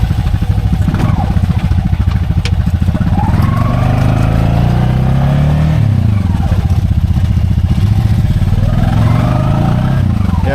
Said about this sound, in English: so I kind of buried it in this one in two-wheel drive